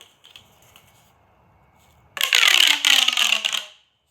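After quiet faint rustling, a plastic pop tube toy is suddenly stretched and twisted, giving a loud, close, ribbed whirring and rattling sound that lasts about a second and a half before stopping.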